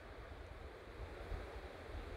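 Water rushes steadily downward at the top of a waterfall in Meghalaya, a dense, continuous roar heard from above the drop, with no voices.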